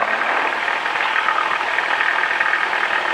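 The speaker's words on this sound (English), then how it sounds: "And now I need full power for takeoff." A small aircraft engine runs at full power for takeoff on the runway, a loud, constant droning roar with no speech over it.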